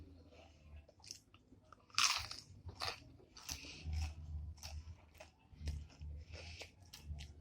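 Close, crisp crunching bites and chewing of spicy nachos with cheese and ranch, a few sharp crunches followed by softer rhythmic chewing, quiet and near with no talking.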